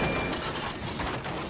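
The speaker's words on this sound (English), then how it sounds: "He burst through the buffers, smashed through oil drums stacked on the wharf and splashed into the canal." A noisy burst of crashing and clattering, dense and continuous, as a train smashes through buffers and oil drums and tumbles for a second or two.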